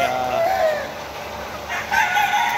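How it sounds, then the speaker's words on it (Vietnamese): A small bamboo chicken rooster on a farm crows loudly and close by, a couple of drawn-out calls standing alone with no talk over them. "con gà tre đấy, nó hơi nhỏ một xíu"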